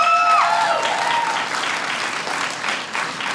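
A comedy-show audience breaks into applause, a dense wash of clapping that starts loud and gradually eases, with a brief voice at the start.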